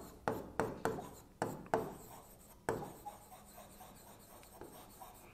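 Pen writing on paper during a pharmaceutical chemistry lesson: a series of sharp scratchy strokes crossing out a word, followed by softer continued writing, close and clear with no talk.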